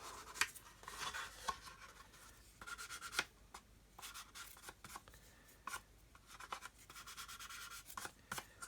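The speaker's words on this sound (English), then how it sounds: "I'm just going to use this 400 grit just to get rid of these sanding marks" A plastic model kit rubbed with 400 grit sandpaper to remove sanding marks, quiet rhythmic scratchy strokes in short bursts with brief pauses between them, close and alone.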